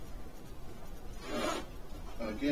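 A zipper on an Eberlestock J107 Dragonfly backpack being pulled open, a short raspy zip in the middle followed by a second brief rasp, quiet and close.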